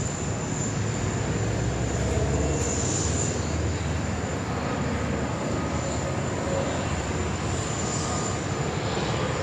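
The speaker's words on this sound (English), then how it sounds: "the Thai Air Asia X next arrival here, runway 16 right" A Thai AirAsia X airliner arriving on runway 16 right at Sydney Airport, heard as a steady, broad engine roar with a high whine that holds constant throughout, loud and continuous with no talk over it.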